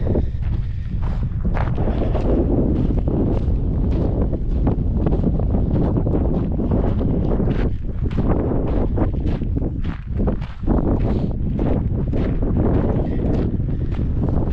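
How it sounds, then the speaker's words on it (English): Strong wind buffets the microphone at an abandoned gold mine, a loud continuous roar of gusts with only brief lulls, no voices. "it's windy out here today"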